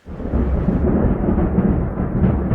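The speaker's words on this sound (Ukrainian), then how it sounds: "Так, не тільки дощик ще й гримить." Deep, continuous thunder rumbles loudly through steady rain, a low broadband roll that fills the whole moment without any voices.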